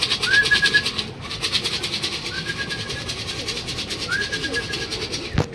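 A racing pigeon arrives at the loft during a club training flight in Luisiana, Laguna, with a few soft coo-like calls over a steady rumbling background and a sharp knock at the end.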